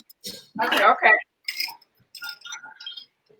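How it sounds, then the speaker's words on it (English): Ice cubes tumble into a cocktail mixing glass in a few short bursts of clinking and rattling, close and fairly loud, with brief pauses between scoops. "We're going to add ice. Just a lot of ice."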